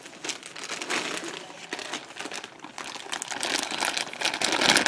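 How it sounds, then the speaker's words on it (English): Crinkling and crackling from handling a yarn blanket, close and continuous, with dense rustles that grow busier toward the end. "I'm sorry for the crinkling"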